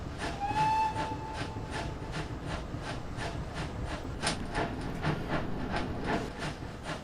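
A steam locomotive runs with its cylinder cocks open, heard from the cab. Steady rhythmic chuffing and hissing bursts sound close and loud over continuous rail noise, with a brief whistle-like tone near the start.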